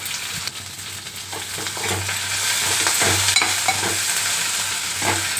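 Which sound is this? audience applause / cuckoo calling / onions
onions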